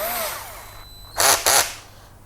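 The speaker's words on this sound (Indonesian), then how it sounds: "Di mode drilling. Masih sama kayu pinus." A cordless 12V drill driver in drilling mode at speed setting 2 boring pine wood with a 10 mm spade bit, two loud close bursts of whirring motor and cutting, each roughly a third of a second, after quieter rattling.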